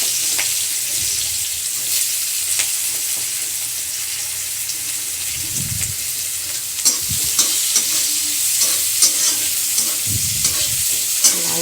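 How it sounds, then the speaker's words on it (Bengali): Chopped onions and cumin seeds frying in a pan, a steady close sizzle throughout with occasional stirring clinks and scrapes, no voices. "এবার এখন জিরা ফোড়ন দিব। তারপরে পেঁয়াজ কুচিগুলো দিয়ে দেব।"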